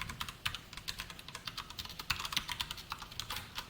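C code being typed on a computer keyboard, a quick irregular run of close, crisp key clicks with no talking.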